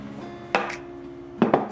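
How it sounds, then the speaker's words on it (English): Salsa ingredients being mashed in a bowl: two or three sharp, close knocks and squelching thuds spaced apart against quiet background, no talking. "You're gonna put your stuff here in your bowl and you're gonna mash it like this."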